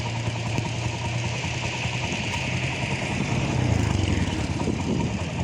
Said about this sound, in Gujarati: જીસીબી ટ્રેક્ટર ને ખટરા ટ્રેક્ટર છે અને જીસીબી છે